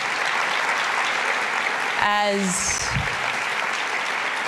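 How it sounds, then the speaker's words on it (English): Audience applause fills a mainstage conference session, steady broadband clapping throughout with a brief spoken word and tone sweep in the middle. "Please give them a round of applause."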